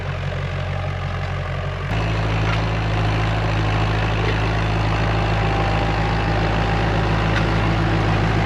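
A tractor engine runs beside a pond. It drones steadily and close by, then picks up into a louder, fuller rumble after about two seconds and holds there.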